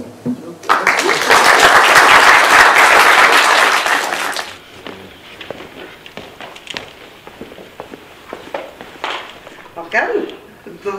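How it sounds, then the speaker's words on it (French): Loud burst of clapping from the audience after a bioinformatics habilitation thesis defense, about four seconds of dense applause that cuts off abruptly, followed by scattered shuffling, footsteps and quiet murmuring. "Peut-être que nous allons d'abord peut-être remercier, et puis ensuite t'applaudir"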